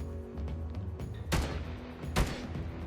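Oden rifle firing in a video game, a weapon that shoots two bullets at once, with two sharp, loud gunshot blasts about a second apart over a low ambient hum.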